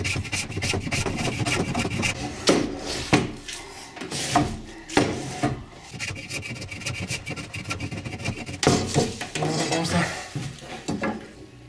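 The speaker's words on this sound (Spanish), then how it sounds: "La madera que ya está pegada, esta parte vamos a igualarlo con ayuda del cepillo." A hand plane levels a glued-up wooden panel in a woodworking shop, with rough scraping strokes that come in irregular bursts close to the listener, mixed with occasional knocks and clatter.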